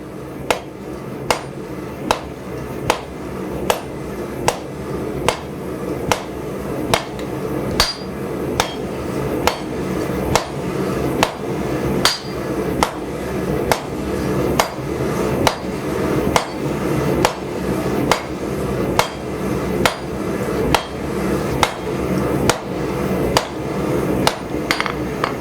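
Steel is hammered on an anvil while forging a drawknife, with sharp, ringing blows falling in a steady rhythm about once a second, loud and close throughout.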